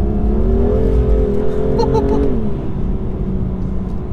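A BMW M2 engine pulls hard at full throttle from inside the car, a loud steady tone that rises and then drops briefly as it shifts, with a moment of speech.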